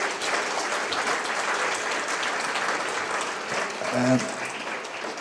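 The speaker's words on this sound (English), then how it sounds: "I think another round of applause." An evening audience in Rome applauds artist William Kentridge with steady, full clapping that continues for several seconds, a voice briefly audible near the end.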